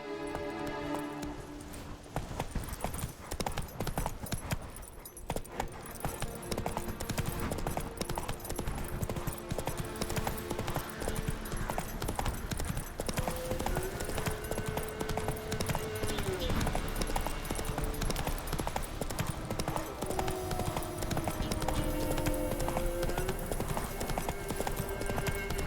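Hooves of the horse Roach clip-clop at a steady gallop in The Witcher 3: Wild Hunt, loud and continuous with game music and ambience underneath, plus a brief whinny.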